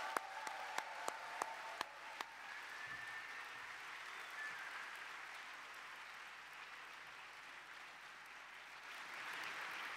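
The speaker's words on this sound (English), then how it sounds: "Please join me in a round of applause as we celebrate the graduation of our inaugural cohort" Applause from the audience at a 2023 graduation ceremony honouring the first cohort of a public policy data science master's, a broad, steady wash of clapping lasting throughout, moderately distant, with a few sharp louder claps near the start.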